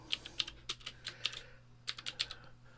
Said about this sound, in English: Boy, I can't type today.